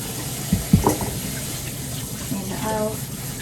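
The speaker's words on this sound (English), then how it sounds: "draining the water and" Water pours from a pot through a strainer into a kitchen sink, a steady splashing rush with a few clunks of cookware at the start, and someone speaking over it.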